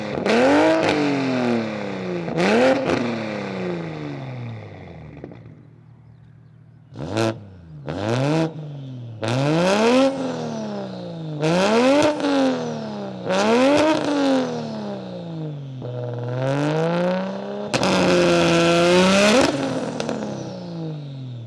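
A 900bhp GR Supra and an 850bhp M240i blip their engines one after the other, loud close revs that rise and fall in repeated sharp sweeps with a brief pause between runs.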